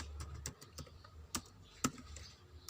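Keys on a computer keyboard clatter in quick, uneven bursts of soft clicks, close and fairly quiet, with short pauses between strokes and no talking.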